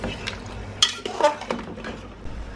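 Whole spices such as cumin powder, coriander seeds, fennel and cardamom frying in a pan for beef nihari, with scattered clinks of a metal spoon scraping and stirring against the pot and a soft sizzle beneath.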